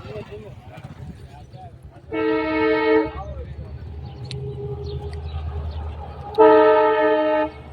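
Two long, loud train horn blasts sound, with the low rumble of a passing freight train at a closed level crossing filling the gap between them.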